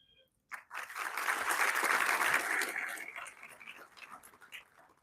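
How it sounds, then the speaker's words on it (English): A room of students at a B.Tech orientation breaks into applause after a short silence, clapping swelling quickly, holding for a couple of seconds, then thinning out to a few scattered claps. "The very first thing I would like you to do is just clap for yourself."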